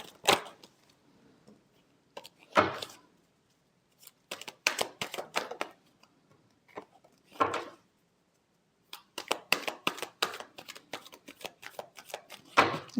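Tarot cards are shuffled in a series of brisk riffles and taps, short bursts separated by pauses, close and crisp in a quiet room, with denser rapid shuffling near the end.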